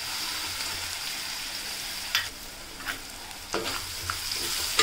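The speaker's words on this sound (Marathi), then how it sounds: "आता कांदा सुद्धा आपल्याला चांगल्या तेलामध्ये शिजवून घ्यायचा आहे" Finely chopped onion sizzles softly in hot oil in a pan, with a steady faint frying hiss and a few brief stirring scrapes.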